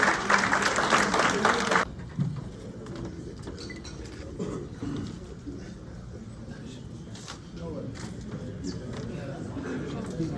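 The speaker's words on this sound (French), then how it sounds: "On peut l'accompagner avec les applaudissements." A burst of loud crowd applause at a gala awards ceremony in New York fades out after a couple of seconds, leaving a murmuring room with scattered voices and faint clapping.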